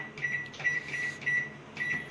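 A grill microwave oven gives a series of five short, clear electronic beeps at a steady pace as its timer is set, heard close and quiet with no talking.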